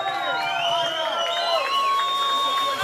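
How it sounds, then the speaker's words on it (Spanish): A concert crowd in Chiriquí claps and cheers for drummer Alvin, a continuous wash of applause with scattered shouts and whistles rising above it. "Un aplauso para Alvin."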